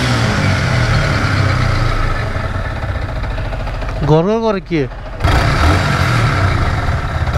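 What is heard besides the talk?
engine of a second-hand Yamaha R15 motorcycle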